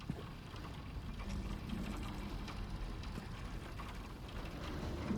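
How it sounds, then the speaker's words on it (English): Steady rainfall ambience in Silent Hill 2 Remake, a soft continuous patter and hiss of rain spread evenly throughout with faint scattered drop ticks and no talk. "Ooh, it sounds kind of rainy."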